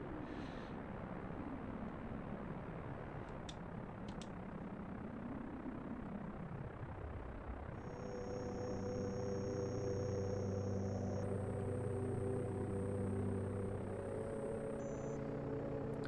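Aircraft engine in a space flight game running up to full power after a quick takeoff roll, a steady droning roar joined midway by layered sustained engine tones that hold loud and constant.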